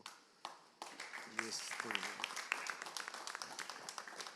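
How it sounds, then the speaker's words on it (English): Audience applause at a forest monitoring and greenhouse gas meeting in Indonesia, with scattered claps that swell into steady clapping from a roomful of people, heard under a speaker's voice. "So I think we should give applause to"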